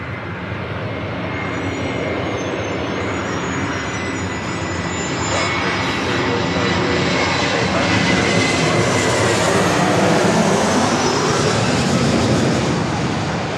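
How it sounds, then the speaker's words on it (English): A Delta Airlines A321 arriving from Detroit lands on runway 24 left at LAX, a loud, broad jet roar that swells steadily over several seconds as the plane nears. "Delta Airlines flight 913 coming in from Detroit, A321, next arrival on 24 left."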